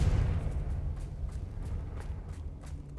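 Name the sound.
Confringo blasting spell exploding in video game Hogwarts Legacy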